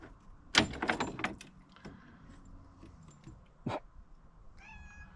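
A cat meows close by in a quiet garage during suspension work on a Volvo XC70, two short cries about three seconds apart, with faint clinks and rustles in between.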